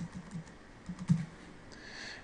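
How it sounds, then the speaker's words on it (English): Quiet typing on a computer keyboard, a handful of soft key taps clustered in short bursts with one slightly louder press, close but faint against low room hum. "In the status area, we're going to type in first draft"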